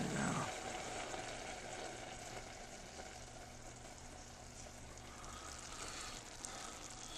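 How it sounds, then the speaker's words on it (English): Rice coming to a boil in a pot on a stovetop, a faint steady bubbling and hiss that runs without a break, quiet and close. "As you can see, our rice is coming to a boil"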